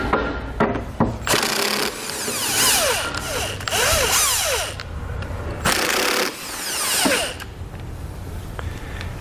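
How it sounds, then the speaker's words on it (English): A power tool with a 14 mm socket spins off nuts during a trailer hitch installation on a 2013 Lexus RX 350, giving several close, loud bursts of whirring and rattling with short pauses between them. "we're gonna need to grab a 14 millimeter socket and remove these two nuts on each side"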